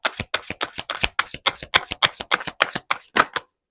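Tarot cards are shuffled close up in a rapid run of about sixteen crisp, evenly spaced snaps and riffles that stops abruptly.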